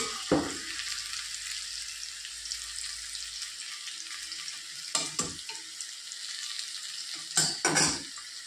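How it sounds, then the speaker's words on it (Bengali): Whole garam masala spices sizzle in hot oil left from frying paneer, a steady close hiss throughout with a few sharp bursts of stirring and clatter near the start and end, no voices. "ওই তেলে দিয়ে দিয়েছি আমি গোটা গরম মশলা।"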